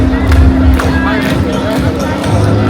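A crowd claps along to a club-style DJ set outdoors in front of the Portugal pavilion at the Osaka Expo, loud rhythmic clapping and babble over thumping low bass.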